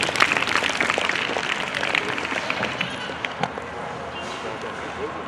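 An audience at a school Republic Day function applauds young children who are about to perform a song, with a burst of dense clapping that slowly thins and fades over several seconds.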